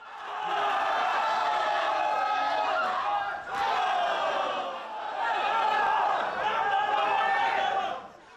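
A large crowd of wrestling fans cheers and shouts in the stands, a dense, sustained roar of many voices that swells and dips slightly before fading at the end.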